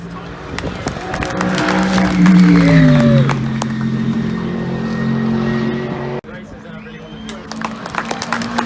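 A Porsche race car on a qualifying lap at Mount Panorama, Bathurst, during a 12-hour GT event: a loud engine drone rises and falls through gearshifts beneath continuous excited commentary, with crowd noise.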